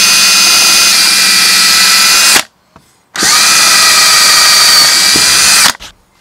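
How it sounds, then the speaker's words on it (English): A power drill bores screw holes for a mounting track on a Lifetime Tamarack Angler kayak, two loud sustained whining bursts with a short pause between them, close up. "Then I'll drill the other 4 holes here for the rest of the screws."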